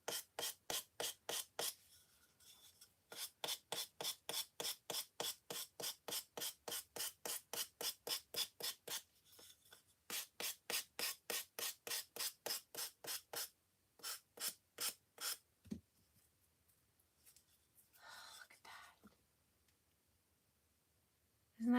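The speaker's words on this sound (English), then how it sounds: "I'm just going to use my sander here." A handheld sander works over a Christmas craft piece decorated with a rub-on transfer. It gives rapid, evenly spaced rasping strokes in bursts, each run separated by short pauses, close and fairly quiet, with no speech.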